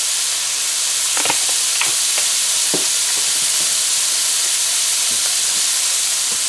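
Mixed vegetables stir-frying in a hot pan for five spice fried rice. A loud, steady hiss and sizzle runs throughout, with occasional clicks and knocks of a utensil stirring close by.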